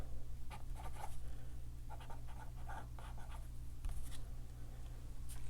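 A Pilot Vanishing Point retractable fountain pen with a broad nib writing on paper, giving soft, quiet scratchy strokes in short clustered bursts over a low steady hum.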